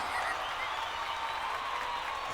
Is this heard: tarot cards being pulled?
no